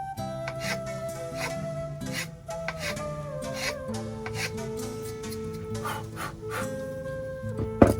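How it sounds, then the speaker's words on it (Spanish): Steady, rhythmic rasping strokes of a file shaping the bevel of a bamboo quena flute, repeated over and over beneath a quiet tune playing in the background. "La manera correcta de limar es de abajo hacia arriba, evitando astillar el bambú."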